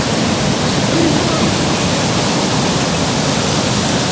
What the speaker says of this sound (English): down here at Water's Edge, just how big those waves are